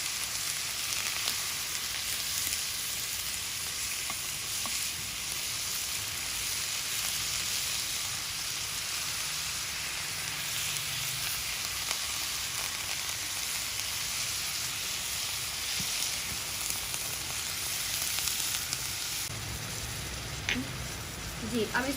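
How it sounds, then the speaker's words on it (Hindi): Minced meat fries in a pan with ginger and garlic, giving a continuous, even sizzle, close and moderately loud for over twenty seconds, with brief stirring scrapes near the end. "अब इसको हम अच्छे से भूनेंगे।"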